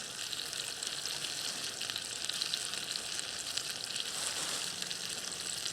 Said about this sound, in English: We're just going to tip them into the pan.